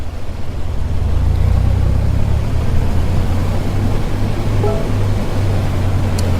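Steady low drone of an A2A Comanche 250 piston engine being run up on the ground in a flight simulator, a constant loud hum with no voices.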